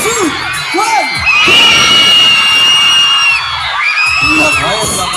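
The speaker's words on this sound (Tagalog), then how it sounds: "Pwede po ba namin marinig yung mga sigawan ninyo?" A concert crowd at a show screaming and cheering on cue, a loud sustained roar of high-pitched shrieks and whoops that swells, dips briefly, then surges again.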